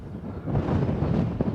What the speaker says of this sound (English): It's quite breezy up here